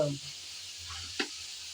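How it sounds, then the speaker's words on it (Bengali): Pumpkin curry frying in a pan and stirred: a faint, quiet sizzling hiss with a low background hum and one brief scrape of the spoon. "নেড়ে চেড়ে আমি ভালোভাবে একটু কষিয়ে নিয়েছি"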